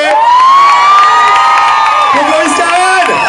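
Crowd at a Tour de Guadeloupe cycling podium ceremony in Vieux-Habitants cheering and whooping loudly and continuously, with a bright sustained horn-like tone running through the din.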